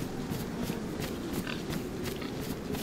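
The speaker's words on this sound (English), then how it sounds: "Oh, we got some pigs there." Several short pig grunts and oinks from a game, scattered over a steady low background hum, moderately loud.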